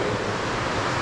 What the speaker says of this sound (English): the river making a fair amount of noise as it echoes its way through.